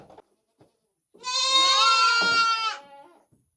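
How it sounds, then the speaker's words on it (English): A goat bleats once in a long, loud, wavering call lasting over a second while being brought in for milking, with quiet handling noises before and after. "Let's see if this next goat that wants to come in is Bonita."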